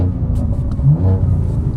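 A BMW M2 engine revs hard through an open valved Valvetronic exhaust, a deep, raspy roar that swells and holds, loud and close, with no voices.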